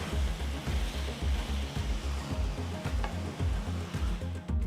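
Methi leaves cook in a pan over a medium flame, giving off a steady, dense sizzle with a pulsing low rumble underneath.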